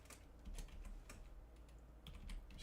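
Typing on a computer keyboard: a quiet, irregular run of light key clicks in small bursts, close and soft, with no voices.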